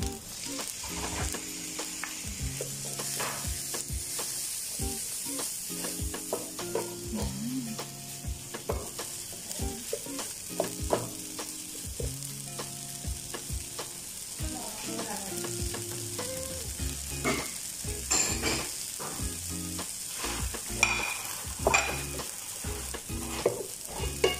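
Fried rice with green peas sizzles and crackles in a hot pan while being stir-fried, with a constant frying hiss and frequent scraping stirs throughout, close and steady.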